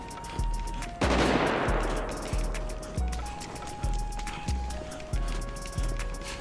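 Police gunfire in the video game GTA 5, a steady run of loud, close shots repeating roughly twice a second, with a brief burst near the start and a ringing electronic tone threaded underneath.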